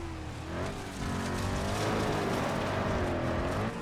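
A Porsche Panamera 4S sedan driving off-road over rough, bumpy terrain, its engine note rising and falling loudly and steadily throughout, close to the listener.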